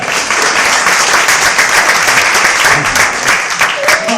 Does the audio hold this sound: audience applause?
yes